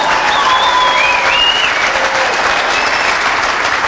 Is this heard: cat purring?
no